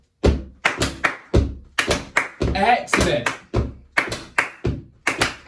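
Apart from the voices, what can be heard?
feet stamping with hand claps in the Tresillo rhythm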